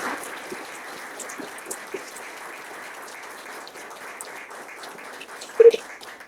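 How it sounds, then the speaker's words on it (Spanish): An indoor audience at an economics debate applauds steadily at a moderate, slightly distant level, a dense patter of many hands with no talk over it. "les pido un fuerte aplauso para ellos"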